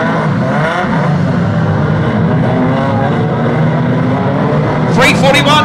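Unlimited banger race cars roar around a track at a Yarmouth Christmas meeting, loud revving engines droning continuously under a commentator's voice, with a sharper burst near the end.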